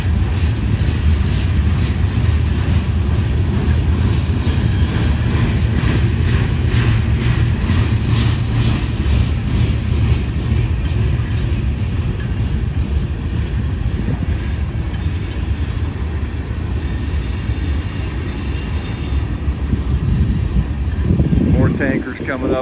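A long freight train of tank cars carrying liquefied petroleum gas rolls past a railway crossing, a loud, steady rumble with rhythmic wheel clatter close by that continues unbroken before easing near the end.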